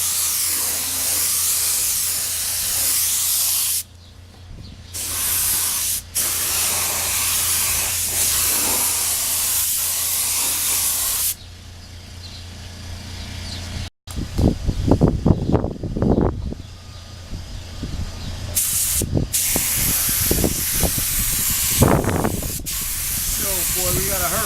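A spray gun lays clear coat onto Bimota motorcycle fairings outdoors in gusty wind, a loud continuous hiss broken by short pauses between passes, with bursts of wind buffeting in the later half.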